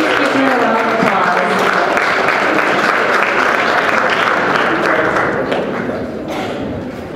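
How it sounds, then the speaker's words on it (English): Audience applause at a formal stage ceremony, a loud dense roar of clapping hands that holds steady for several seconds before gradually tapering off. "Please give me a round of applause."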